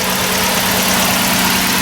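A 1994 Toyota T100 DX pickup idles with its engine, a steady, loud, even rumble with a low hum running throughout and no voices.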